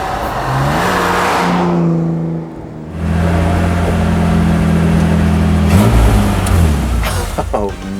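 A 1962 Aston Martin DB4 drives steadily, its engine droning and revving up and down from near in-car, with a brief lift around the middle, while people talk over it.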